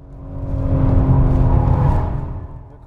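BMW M3 or M4 under full throttle heading into a drift: a loud engine roar swells, holds strong through the middle, then fades as the car moves away, with no talking over it.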